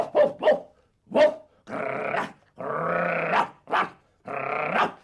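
Several dog barks and growls in a row, short sharp yaps followed by longer drawn-out growling barks, close and clear with quiet gaps between.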